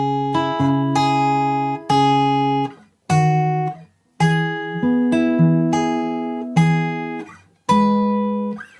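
Acoustic guitar plays the middle 8 line of a song, a series of strummed and plucked chords with short gaps between phrases, close and clear with no talking.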